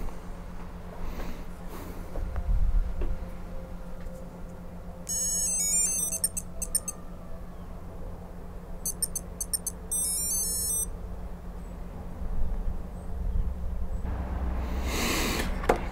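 A smartphone gives two short bursts of bright electronic chime tones while pairing a Tile tracker sticker, set against a quiet background hum and faint handling noise.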